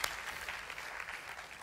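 Church congregation clapping hands during a service, a steady wash of applause filling the room throughout, moderately quiet with no voices over it.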